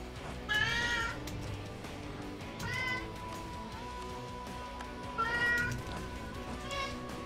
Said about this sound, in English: Cat lying on the keyboard, of course.